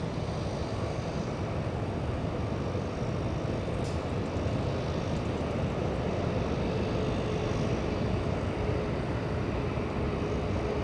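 A Hawaiian Airlines airliner on Flight 3 departs LAX for Honolulu, a steady broadband engine roar that holds at an even level for the whole stretch, distant rather than close.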